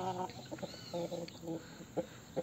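A rooster on a free-range chicken farm clucks in short, repeated bursts close by, under and between a man's speech.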